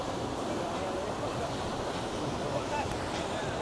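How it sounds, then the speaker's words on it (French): Strong, steady wind roars and buffets the microphone in a broad continuous rush, loud and unbroken, with a faint voice barely under it. "Mais c'est vrai que c'est quand même très venteux"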